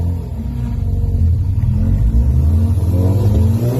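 A Ford Focus RS accelerating hard, with a loud, close engine whose rumble climbs steadily in pitch as it pulls through the gear.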